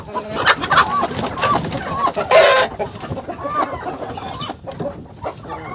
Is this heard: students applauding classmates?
no